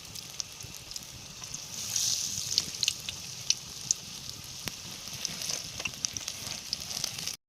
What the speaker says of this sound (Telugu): బజ్జీలు వేస్తాం, మిరపకాయ బజ్జీలు.